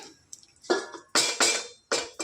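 A metal lid meets a pot of gongura chicken curry in a few sharp clanks and scraping knocks, close by, spaced unevenly over a couple of seconds.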